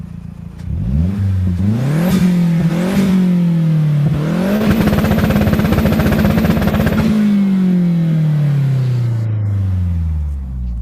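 A car engine with a near-stock exhaust revs repeatedly in rising blips, then holds a hard, buzzy high rev for a few seconds before dropping and winding down slowly to idle, loud and close.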